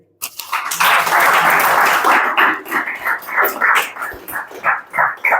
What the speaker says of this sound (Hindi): मुझे इन तालियों की गड़गड़ाहट की जरूरत नहीं